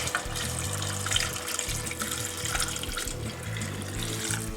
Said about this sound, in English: And then we're going to pour in our chicken stock.